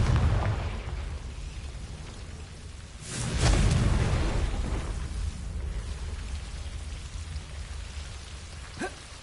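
The Confringo blasting spell in Hogwarts Legacy goes off as a deep rumbling explosion that swells suddenly and then fades into a long crackling tail, alone, with a faint later whoosh.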